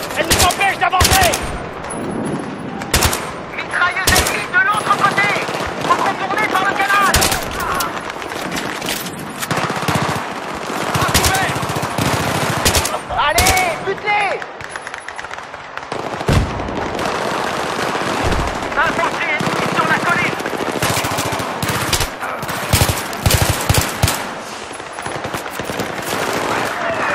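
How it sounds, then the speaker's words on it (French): Enemy machine guns rattle through urban combat in Battlefield 3 in Iran, long loud bursts of automatic fire and scattered gunshots over nearly half a minute, with brief lulls and shouted voices mixed in. "Détournez-moi ces mitrailleuses. Elles nous empêchent d'avancer."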